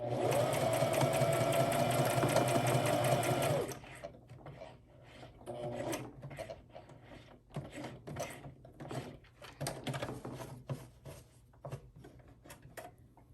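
A sewing machine runs steadily for a few seconds while stitching fabric at a corner. It stops, and a string of light scraping and clicking handling sounds follows as the fabric is turned, all close and without talk.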